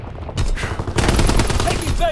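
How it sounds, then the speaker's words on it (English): Sustained anti-aircraft gunfire in the Call of Duty WWII video game: dense, loud bursts of rapid shots rolling continuously over the whole span, with game noise and a brief whistling tone near the end. "Anti-aircraft burst is immense."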